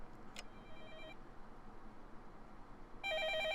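A telephone rings in the visual novel Fate/Stay Night: short electronic trilling bursts, faint at the start, then a louder warbling ring near the end over a steady hiss, with no talking.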